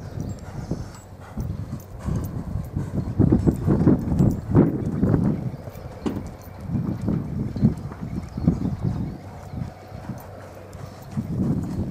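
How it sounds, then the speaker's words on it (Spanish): Hooves of a chestnut crossbred horse clip-clop in a steady walking rhythm, close and continuous, with light wind rumble against the microphone and no talking. "Es un caballo de un tranco muy cómodo, muy tranqueador."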